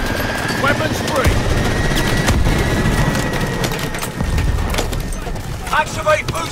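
Gunfire rattles through a Call of Duty Advanced Warfare battle, bursts of loud shots and booms over a constant rumbling backdrop, with shouted voices in between.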